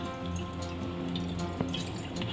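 Milk pours into a kadai on the stove with a continuous liquid trickle and dripping splashes, heard close and fairly steady over a couple of seconds, with no talking.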